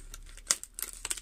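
Packing tape is peeled and torn off a package in quick, crinkly bursts of ripping and crackling plastic. The sounds are close and uneven, with no talking.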